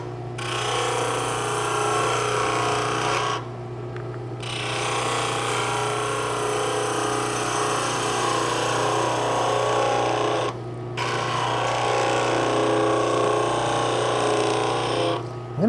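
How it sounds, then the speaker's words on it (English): Skew chisel cutting a convex curve on a wooden ice cream scoop spinning on a lathe: a loud continuous whirring drone with a steady hum, interrupted by two brief pauses. "Here I can use my skew again, actually, on this convex curve nicely."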